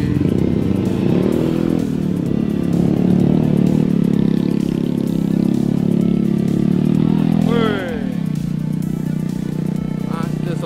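A stunt rider's motorcycle rides and revs hard for a wheelie, the engine droning loud and close with a rising rev near the end, while people talk over it.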